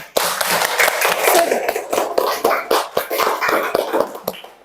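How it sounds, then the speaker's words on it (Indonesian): Classroom of students clapping for a classmate, a burst of uneven, close hand claps with scattered sharp individual slaps that gradually thins out toward the end. "tepuk tangan untuk Nuryani"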